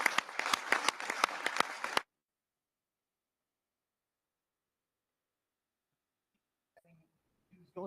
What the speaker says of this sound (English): One more round of applause for Employees of the Year.